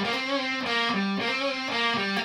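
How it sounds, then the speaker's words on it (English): Distorted electric guitar plays a short, sustained melodic phrase, thick and buzzing, with notes changing roughly every half second and no talking. "I might as well turn on distortion."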